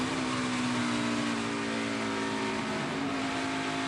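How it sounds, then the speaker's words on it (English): A NASCAR Xfinity stock car engine drones steadily at high revs during a race at Iowa Speedway, a loud sustained roar with a strong tonal hum and no pause across the stretch, under crowd and track ambience. "Sadler feathering the throttle, but Custer pulling away"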